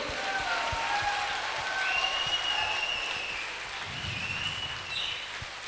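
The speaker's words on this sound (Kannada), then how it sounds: "ಜೋರಾಗಿ ಚಪ್ಪಾಳೆ ತಟ್ಟಿ," Loud, sustained applause from an audience at a spiritual meditation gathering in Mysuru, a dense wash of clapping that stays steady for several seconds with faint murmurs beneath.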